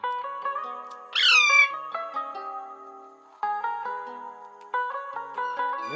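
Baby ringneck parrot squawking close by, a sharp rising screech followed by a series of short chirping calls and tonal peeps spread across the clip, heard alone.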